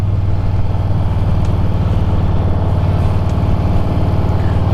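A pickup truck engine runs at a steady, loud idle close by, a continuous low rumble with no rev changes and no voices.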